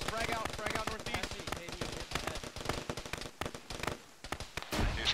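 In the ShackTac ArmA video game, rapid bursts of automatic gunfire rattle close and loud, with sharp crack-like shots and a grenade blast amid the firing.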